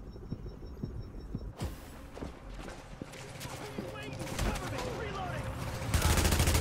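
Gunfire in The Division video game, with scattered shots and bursts through a noisy firefight mix, growing louder and denser toward the end, while a voice talks over it.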